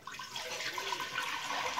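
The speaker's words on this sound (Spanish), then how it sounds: "Primero voy a echar el agua." Water poured steadily from a container into a pot while cooking, a continuous close splashing and gurgling stream with no talk.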